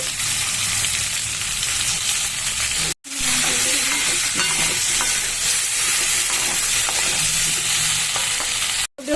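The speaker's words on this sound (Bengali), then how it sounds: "হলুদ আর কাশ্মীরি লঙ্কার গুঁড়ো ভালো করে দেখুন মিশিয়ে ভেজে নিচ্ছি" Potato pieces fry with turmeric and Kashmiri chilli powder while being stirred, giving a loud, steady sizzle with scraping stir strokes, broken by two brief cuts to silence.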